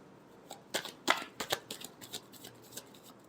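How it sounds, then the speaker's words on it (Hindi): Tarot cards being shuffled in a run of crisp riffling flicks and soft slaps, fairly close and moderately quiet, with no talking. "Last shuffle."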